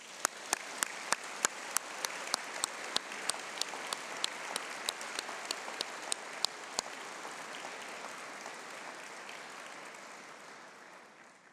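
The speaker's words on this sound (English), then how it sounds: "let's give them a huge round of applause" Audience applause at an Open University degree ceremony in Manchester, a steady wash of many hands clapping that starts full and slowly thins toward the end, with a few sharp individual claps standing out early on.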